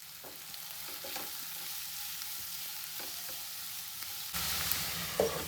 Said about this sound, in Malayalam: കടുക് പൊട്ടിയതിന് ശേഷം അതിലേക്ക് സവാള അരിഞ്ഞതും പച്ചമുളക് അരിഞ്ഞതും കൂടെ ചേർത്ത് കൊടുക്കാം